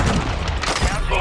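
Pistol shots crack out in a Call of Duty Search and Destroy match, a quick loud burst of gunfire layered under game noise and faint talk.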